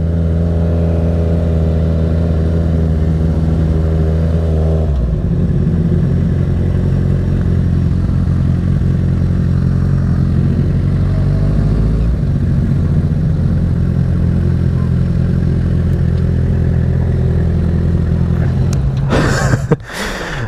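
Sport motorcycles pull up at the Rattlesnake Ballroom Snake Pit biker bash. A loud, steady engine drone shifts pitch as they roll in and slow down, and a brief clatter comes near the end.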